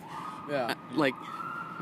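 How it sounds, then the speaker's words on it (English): A police siren wails outdoors in the cold, two rising sweeps in quick succession that sound moderately close, while someone speaks briefly over them. "Sorry about the sirens."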